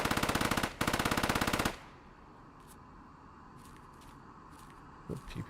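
PPSh submachine gun in a video game firing two rapid full-auto bursts, close and loud, with a brief gap between them, followed by quiet ambience and a few faint clicks.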